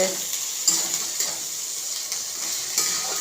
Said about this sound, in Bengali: তেজপাতা দিয়েছি, শুকনো লঙ্কা দিয়েছি তেলে।